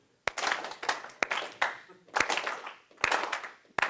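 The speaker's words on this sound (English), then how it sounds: "do a slow clap" A conference audience claps slowly and in unison, with sharp loud claps spaced about a second apart and a brief rustle of room noise between them.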